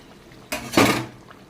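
Rohu fish slips into a boiling curry of mustard and poppy seed paste, a short splash and loud sizzling burst against a pot clatter, close and with no talk.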